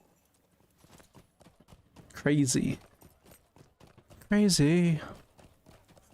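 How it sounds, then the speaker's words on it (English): Hoofbeats from a hobby horse mount in a video game clop in a regular rhythm at low volume, while a person speaks loudly over them twice. "I haven't used my hobby horse in quite a long time"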